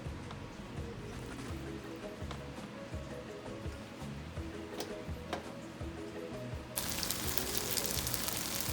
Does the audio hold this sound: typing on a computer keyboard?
no